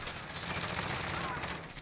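Rapid bursts of gunfire in Call of Duty: Modern Warfare crackle continuously, dense and fairly loud, like automatic weapons firing in quick succession.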